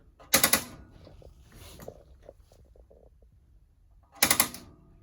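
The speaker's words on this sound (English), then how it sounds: "Hitting the sparker just like you did up top, except the flame is going to happen back here on the right side." Two quick bursts of sharp clicking from the pilot igniter sparker on the oven of a 2019 Forest River Sunseeker 3010DSF RV. The bursts are a few seconds apart, with quiet in between.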